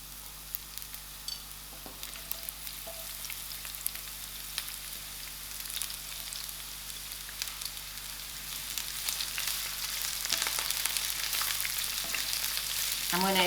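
Onions frying in a quarter cup of olive oil in a non-stick pan over moderate heat, a steady close sizzle and crackle that grows louder and denser toward the end, with no talking.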